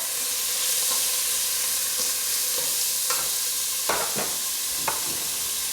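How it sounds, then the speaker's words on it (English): A spatula stirs broccoli, chard and kale in a sizzling frying pan, with a steady fry hiss and several sharp scraping clacks toward the end, close and without speech. "I'm going to grab a spatula and move it around a little bit."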